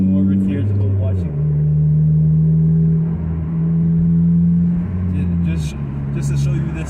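2011 Acura TSX accelerating on a highway, a loud interior engine drone climbing through the gears with brief dips at shifts, under steady road noise and talking.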